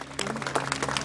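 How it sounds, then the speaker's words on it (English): Audience applause at a 2011 Pacific Coast F.I.R.E. Academy graduation ceremony: a short, steady wash of many hands clapping at moderate volume, with a low electrical hum beneath it. "So please give yourselves a round of applause."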